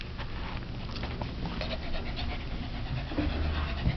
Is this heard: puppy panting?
yes